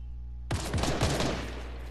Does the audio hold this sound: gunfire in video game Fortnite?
yes